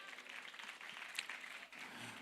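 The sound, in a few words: audience applause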